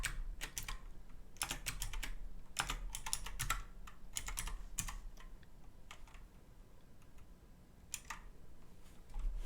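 Fingers tap on a computer keyboard in short irregular bursts of crisp clicks with brief pauses, close and clear in a quiet room.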